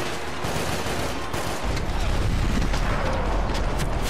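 Loud, dense gunfire from the video game Max Payne 3 fills the scene, a sustained rattling barrage that intensifies after a short lull, with some faint talk underneath.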